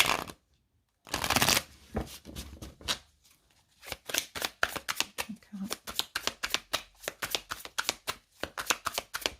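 A deck of tarot cards being shuffled up close: a burst of riffling, a pause, then a long run of quick rhythmic flicks and slaps of cards, fairly quiet with no talking.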